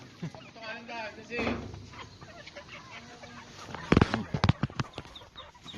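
Chickens cluck around a garden, scattered and moderately close, with faint voices talking in the background and a louder, busier burst of clucking toward the end.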